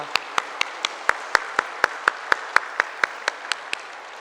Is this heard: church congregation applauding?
yes